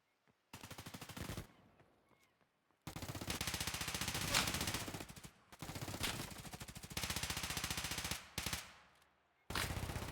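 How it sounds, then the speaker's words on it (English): Loud, close bursts of automatic gunfire in an arena video game match, sustained rattling volleys broken by short silent gaps, with no talk. "I'm hearing a lot of loud guns in my ears"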